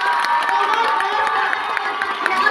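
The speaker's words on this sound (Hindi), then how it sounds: "क्या सिखाया है वो उनकी तालियों की गड़गड़ाहट से पता चल रहा है." A college crowd at a Women's Day event cheers, shouts and claps steadily throughout, a dense, continuous roar of many voices with sharper clap peaks scattered on top.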